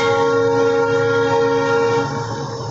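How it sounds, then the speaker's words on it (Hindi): A train near Dudhsagar gives a long, loud, sustained horn blast that fades slightly toward the end, heard alone. "आइए देखिए देखिए ट्रेन गुजरता हुआ वहाँ से।"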